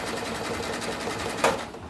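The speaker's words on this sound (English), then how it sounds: "So I do like to use a really wide stitch to catch both edges" A sewing machine stitching a clothesline rope coaster with a wide zigzag stitch, a quick steady whirring of needle strokes with a brief louder burst near the end, close by.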